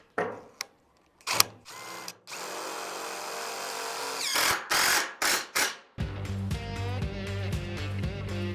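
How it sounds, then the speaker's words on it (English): Power drills whine in several short bursts separated by pauses, then a longer run with rising pitch, then a steady tonal whir near the end. "You don't like the sound of the drills?"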